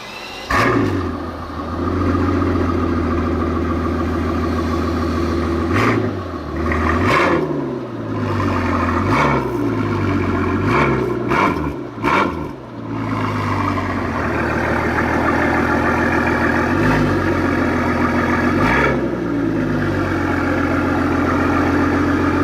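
A Brabus Maybach S650 engine runs close by with a steady hum, broken by repeated revs and gear-like rises and drops in pitch, with no talking.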